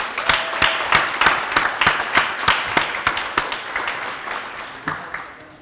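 Audience applause at an award ceremony, a modest room of people clapping for the event hosts. The claps are distinct and fairly close, their rhythm even, and they taper off gradually over several seconds.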